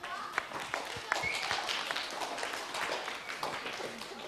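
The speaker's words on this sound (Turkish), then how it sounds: "Bütün cevap verenleri ben alkışlıyorum." An audience at a Turkish television talk show claps for those who answered, a scattered, moderately distant patter of hands with a few sharper claps and faint voices mixed in.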